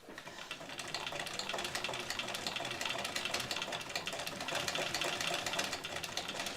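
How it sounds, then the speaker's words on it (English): A sewing machine stitching a bag strap with a standard presser foot runs in a steady, continuous whir close by for the whole stretch, with no talking over it. "you might find that when you're sewing a strap with"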